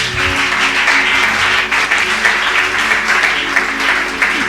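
A church congregation breaks into loud, sustained clapping, many hands together at close range, with a low tonal hum of music or voices beneath it.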